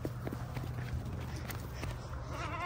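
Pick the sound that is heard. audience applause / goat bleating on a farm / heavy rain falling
goat bleating on a farm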